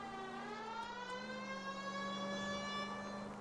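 A police car siren in the video game L.A. Noire wails steadily in a sustained, slowly shifting tone, loud and continuous with no voices over it.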